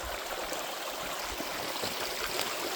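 A river stream flows nearby on a hike over the West Pennine Way between Edenfield and Stacksteads, giving a steady, close rush of water with no talk over it.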